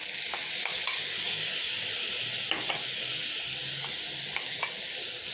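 Onions and tomatoes frying in a pan for Kenyan omena, a broad steady hiss of oil with occasional faint scrapes of a spoon, fairly quiet and continuous, with no voices.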